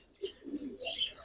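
An Andhra racing pigeon in a loft gives a short, soft coo, low and throaty, followed by a brief higher chirp.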